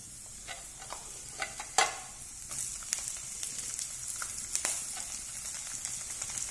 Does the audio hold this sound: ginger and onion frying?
yes